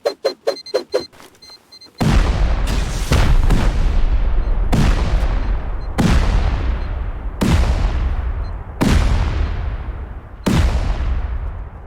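In the Rust video game, seven C4 charges and a rocket blast through a compact 1x1 base during a raid: a burst of rapid gunfire-like pops, then a string of heavy, booming explosions, each decaying before the next, loud and close.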